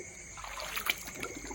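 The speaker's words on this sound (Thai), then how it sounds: "เป็นน้ำไหลนะครับ เป็นคลองครับ" Water flowing in a canal gives a soft, steady trickle with light splashing, faint and close, heard alone for a brief moment.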